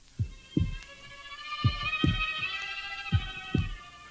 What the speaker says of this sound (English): But for many minutes, the heart beat on.